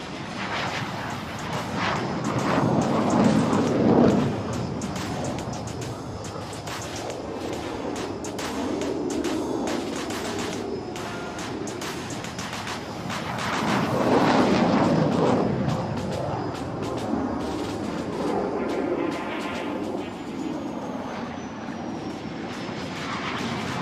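Military aircraft roar past at the Aero India 2023 opening in Bengaluru, a loud sustained jet rumble that swells twice as planes pass, with crackling engine noise between passes.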